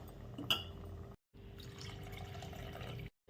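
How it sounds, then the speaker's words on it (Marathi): Chicken stock is poured into a pot for biryani, a soft liquid splash and trickle with a small clink of glass near the start, cut by two brief silences. "चिकनचं जे पाणी होतं आपला स्टॉक ते पाठवून घेते मी"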